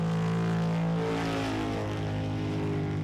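A V8 superboat engine held at full throttle, a loud, steady, dense roar with strong low harmonic drone that slightly shifts in pitch, close and continuous without voices.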